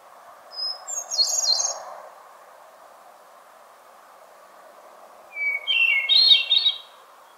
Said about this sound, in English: many describe their song as the finest sound in nature, with a musicality to it